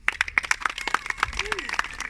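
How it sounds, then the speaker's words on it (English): A small workshop audience gives scattered, uneven claps in quick bursts, with speech mixed in over the brief round. "Give her applause"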